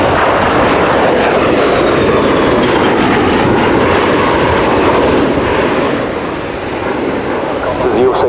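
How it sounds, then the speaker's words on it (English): A Bell-Boeing CV-22B Osprey tiltrotor from the US Air Force 7th Special Operations Squadron, with twin Rolls-Royce Allison turboshafts, roars loudly and steadily overhead at an air show, a broad continuous engine and rotor drone with a faint voice beneath. "CV-22B Osprey."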